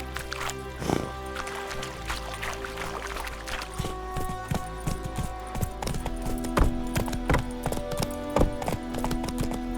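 A horse gallops in The Witcher 3 with rhythmic, fairly close clip-clopping hoofbeats that keep a steady pace throughout, over a soft ambient game backdrop.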